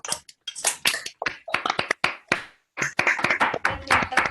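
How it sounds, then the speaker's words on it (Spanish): A few participants on an online video call clap after a talk about unfolding an origami crane, giving sparse, close, uneven hand claps in quick irregular bursts with brief gaps between them. "Nos desmuteamos y aplaudimos a los..."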